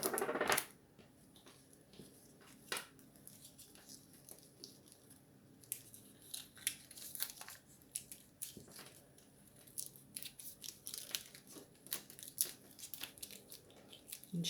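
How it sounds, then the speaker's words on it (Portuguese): Masking tape rips off the roll in repeated short, crackly tearing bursts, close and fairly quiet, while a cloth doll's shoulders are built up; a sharper strip-pull opens the sequence and no one speaks. "Fita crepe novamente."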